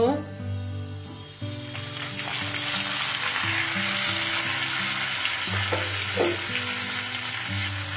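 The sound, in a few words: eggplant frying with potatoes in a pan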